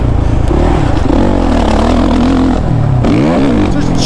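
Suzuki RM-Z 450 dirt bike engine revving loudly up close, pitch rising and falling through continuous throttle blips, with a voice talking over it.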